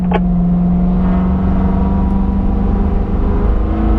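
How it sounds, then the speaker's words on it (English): A car engine held at full throttle drones loud and close, with a steady low hum and no clear pause or change in pitch for a gear shift. No voices are heard. "squeeze the throttle to the floor. All the way down. All the way down, Carlos. Get going, Carlos, up to 5th gear"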